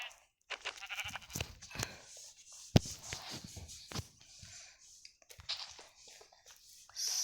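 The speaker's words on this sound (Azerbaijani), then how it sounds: "burada çoxlu qoyun var, qəşəng 2 dənə qoyun var" Sheep bleat in the Minecraft video game, several short, fairly quiet bleats scattered across a few seconds with small clicks and game noises between them.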